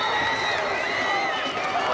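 A homecoming night high school football crowd roars in a steady wash of cheering and shouting, loud and continuous throughout, with a commentator's voice faintly threaded through the noise.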